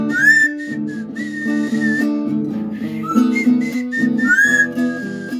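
A singing parrot whistles a melodic tune, wavering tones over a steady rhythmic musical backing, fairly close and loud with no talking.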